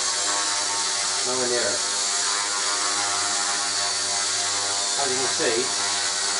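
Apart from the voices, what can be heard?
WL Toys V950 RC helicopter rotor running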